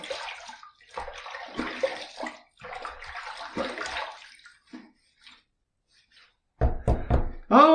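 Water splashes and sloshes as hands wet a face before a wet shave with shave soap, a few bursts of splashing then quieter handling near the end.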